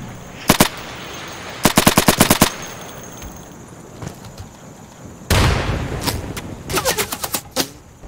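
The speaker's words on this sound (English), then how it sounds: "That's not a sniper, that's an automatic." Automatic weapon fire in Insurgency: a short burst, then a rapid string of sharp shots, followed by further bursts and single cracks later, loud and close over quiet ambience.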